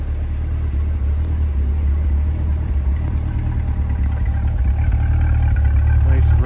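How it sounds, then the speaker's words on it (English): A 2020 Chevrolet Corvette C8 Z51 3LT coupe idles with a steady low rumble and a continuous deep engine drone that is close and loud and holds throughout. "Nice rumble to it."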